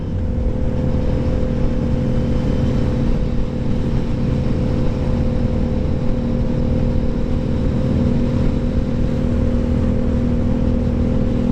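Riding a Honda CB750 Hornet and a Yamaha MT-07 motorcycle on a two-lane country road, a loud, steady engine drone mixed with wind rush, holding an even pitch throughout.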